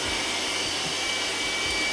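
An iRobot Roomba robot vacuum, tested in a comparison run between the S9+ and i6+, runs steadily with a continuous broadband whir and low motor hum, close by and uninterrupted for the full duration.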